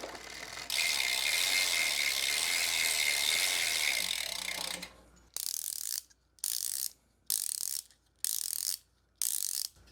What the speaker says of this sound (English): Let's see how the bike sounds, the freewheel on the bike sounds compared to what we have.